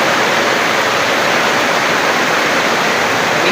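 Heavy rain pours down without letup, a steady, dense hiss that holds at an even loudness from start to finish with no voices.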